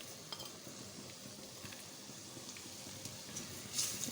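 Whole spices are stirred into mutton in a pot for khade masale ka gosht, producing a faint, soft background sizzle with light scraping and occasional small clinks, ending in a slightly louder scrape.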